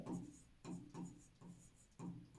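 A pen or chalk writes on a board during a trigonometry lesson, five short scratchy strokes in an even rhythm, faint and close.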